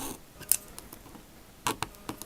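Scissors snip paper for a homemade puzzle cube in a few quick, close, crisp cuts with short pauses between them.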